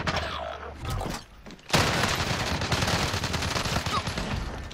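Heavy gunfire in Call of Duty Warzone, including an LMG, bursts into a loud, sustained stream of rapid shots after a brief lull, close and dense, with no talk over it.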